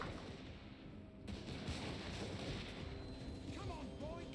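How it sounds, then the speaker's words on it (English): Artillery fire in a Total War battle between Orks and Empire and Dwarf armies, with heavy booms and gunfire rumbling under battle noise while someone talks over it. "I need to silence that, that artillery"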